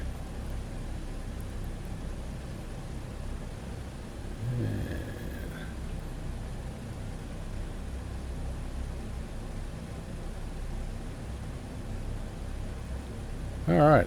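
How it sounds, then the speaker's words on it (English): The four piston engines of a PMDG DC-6B in Microsoft Flight Simulator 2020 drone at night in a steady, even hum, with a brief rise partway through and a short tone at the end. "But we've got 4 good engines running."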